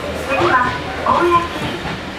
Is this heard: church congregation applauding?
no